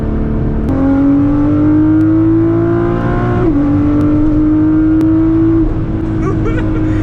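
Nissan GT-R accelerating hard on a cold Michigan road, heard from inside the car: a loud, close engine note climbs steadily in pitch, dips briefly at a gear change, then keeps rising before easing off near the end.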